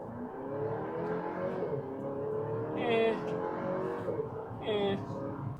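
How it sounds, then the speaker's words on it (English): A four-cylinder SUV engine revs hard under full acceleration, a steady loud roar rising in pitch twice, with some voice-like sound mixed in. "Here, watch if I give it a spirited acceleration."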